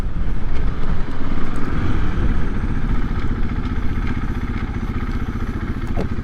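A 2024 KTM EXC-F 500 Six Days dual sport motorcycle drones loudly and steadily while being ridden, its close engine note holding a continuous rumble with light rattling clatter and no talking.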